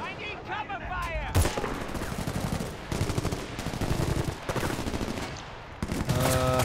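Rapid bursts of automatic gunfire and sharp shots in the video game Battlefield Bad Company 2, repeated in clusters with brief gaps, loud and close in a chaotic combat mix.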